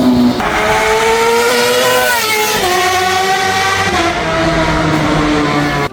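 A Suzuki GSX-R K7 sport motorcycle screams at high revs through a raspy aftermarket Leo Vince SBK exhaust, its pitch sweeping up and down continuously as it accelerates, close and constant throughout.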